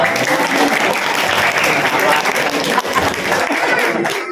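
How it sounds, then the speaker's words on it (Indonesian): Loud, dense applause from a sizable audience at an Islamic boarding school year-end celebration, sustained steadily throughout before tapering slightly at the end. "Berikan tepuk tangan yang meriah."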